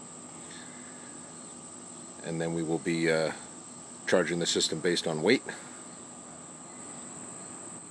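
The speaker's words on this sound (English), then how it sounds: "You can hear the cicada bugs in the background making all sorts of noise." Cicadas on a humid day keep up a constant high, thin buzz throughout, while someone talks in short bursts over it.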